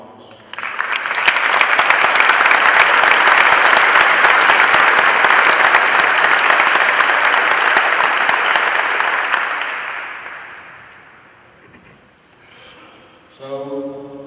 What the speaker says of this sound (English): But a round of applause.